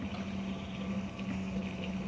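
Fuel pumps into a car's tank in the Long Drive video game as a low, steady liquid gurgle with a soft mechanical hum, fairly quiet and continuous.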